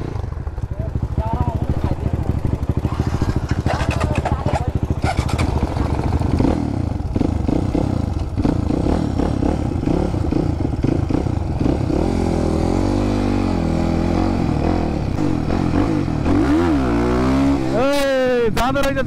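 Crossfire motorcycle ridden on a wet road, the engine droning and revving with rising and falling pitch throughout, close and loud, with a rider's voice talking over it.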